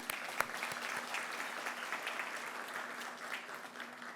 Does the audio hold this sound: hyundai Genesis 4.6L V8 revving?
no